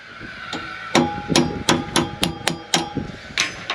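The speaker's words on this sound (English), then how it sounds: "we'll always give that a little tap with the hammer after, just to close it down" A hammer taps a metal jiffy hanger down onto a timber loft joist, about nine sharp, ringing knocks in a quick, uneven run, close by and loud with no talk.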